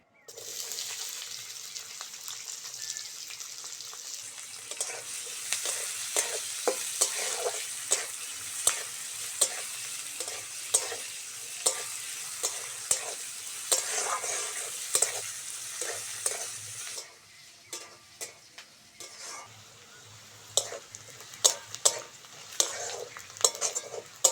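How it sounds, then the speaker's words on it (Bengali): Chopped onion fries in oil with two dried chillies, a bright steady sizzle broken by regular scraping strokes of a spatula against the pan, and the sizzle quiets near the end while sharper clinks continue. "দুটো শুকনো লঙ্কা ফোড়ন করে নেব তেলের মধ্যে পেঁয়াজ কুচিটা দিয়ে দেবো"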